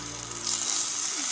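Tomatoes frying in a pan for a Tamil vaala meen thitthippu fish dish, a steady bright sizzle with a low hum underneath, continuous and close.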